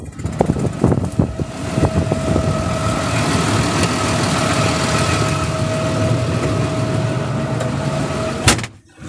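A tractor engine idles at a steady mid-pitched drone after a few clunks and door thuds at the start, ending with a sharp knock.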